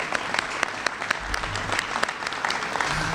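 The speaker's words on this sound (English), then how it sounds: "yeah, that's worth clapping about." Audience clapping at a grocery market's grand reopening, a lively burst of many hands applauding together, fairly loud and sustained for a few seconds.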